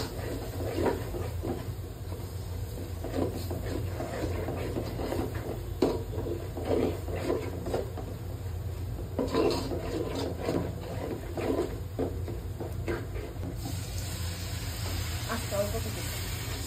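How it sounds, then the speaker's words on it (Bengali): Onions fry in a pan with chili and turmeric powder and are stirred for a long time, making a continuous hissing sizzle broken by irregular scraping and clattering, with a voice talking now and then. "ভাজা ভাজা করবো পেঁয়াজগুলো"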